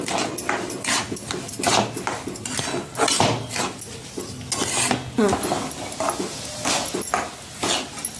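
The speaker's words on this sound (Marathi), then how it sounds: "हे बघ ही बगर अशी छान आता भाजून घ्यायची आपल्याला" Barnyard millet (bhagar), washed, being dry-roasted and stirred in a pan, with steady scraping and grainy rustling of a spoon against the metal, close and continuous with no speech.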